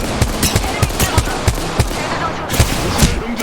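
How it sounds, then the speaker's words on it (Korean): Rapid automatic gunfire from the Apex Legends battle royale game, with sharp bursts repeating every fraction of a second, loud and close, over a dense layer of other game noise. "공격받고 있어. 사격 중이다."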